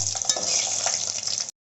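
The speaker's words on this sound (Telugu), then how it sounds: "ఎండుమిర్చి కొద్దిగా ఫ్రై అవ్వాలి. మనం వేసుకున్న పోపు దినుసులన్నీ ఫ్రై అయ్యి ఒకసారి కలుపుకుందాం." Dry red chillies and tempering spices fry in hot oil with a steady bright sizzle, broken by scraping stirs of a spoon against the pan, close and fairly loud, stopping abruptly.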